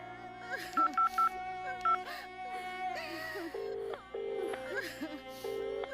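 A telephone number is dialed as a quick run of distinct keypad tones, some in rapid groups and others held longer, set against a steady background hum in a radio drama scene.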